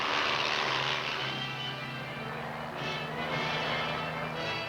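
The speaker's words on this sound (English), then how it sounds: "The Army helicopters may be represented by the utility and tactical transport Iroquois" Army Iroquois utility and tactical transport helicopter, a steady loud rotor-and-turbine drone with a constant low throb and broad airy hiss that holds level throughout, no voices.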